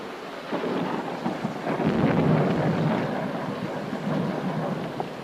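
Outdoor rain falls steadily while deep thunder rumbles through a long rolling swell, loud and close, with gusty wind noise and no voices.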